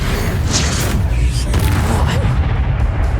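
A Confringo spell explosion from Hogwarts Legacy, heard as a steady, loud burst of low rumbling and crackling that stays dense for about three seconds, with brief brighter flashes partway through.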